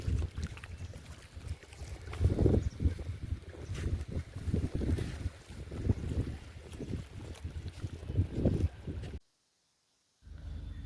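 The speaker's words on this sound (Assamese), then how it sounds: "পানীৰ ঢেউবিলাক দেখিছেনে, কি ধুনীয়া, একদম শব্দ হৈয়ে থাকে, ধাপ ধুপ ধাপ ধুপ" Waves from the river lap steadily against the Dibrugarh embankment with wind buffeting the microphone, a rolling low wash rising and falling throughout before a brief drop to silence near the end.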